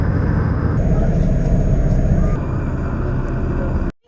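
Steady, loud engine drone and rushing water heard from the back of a ferry bound for Bintan, a constant roar that cuts off abruptly at the end, with no clear talk.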